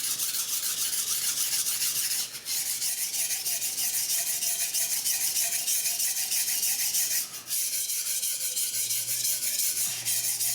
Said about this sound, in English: Scrub, scrub, scrub away until the steel does what we want.